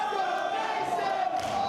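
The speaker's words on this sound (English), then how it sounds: "just as the crowd starts chanting, "Let's go, Mason," he hears their call" A wrestling crowd at a Carter Mason versus Ophidian match chants in unison, a steady, sustained roar of many voices filling the arena without a break.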